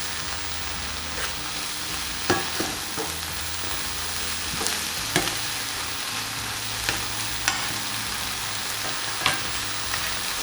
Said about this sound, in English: our other mushrooms are cooking down beautifully now